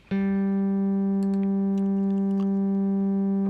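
A single Studiologic Sledge synthesizer note, zero attack and decay set to 82, starts abruptly and holds at a steady pitch without fading, with a few faint clicks and chirps over the sustained tone.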